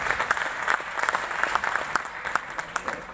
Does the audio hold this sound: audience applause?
yes